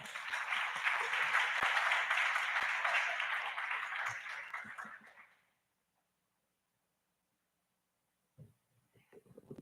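Church congregation applauding together, a dense, steady wash of clapping that holds for about five seconds, then fades out into near silence, with a few faint bumps and knocks near the end.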